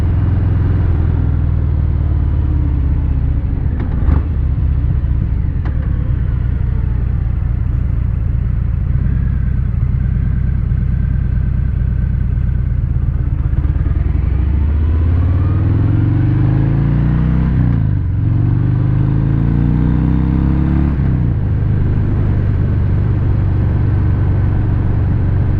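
A Harley-Davidson Fat Bob fitted with Rinehart slip-on exhausts idles and revs with a loud, deep, throaty rumble, swelling into several rising throttle blips near the end.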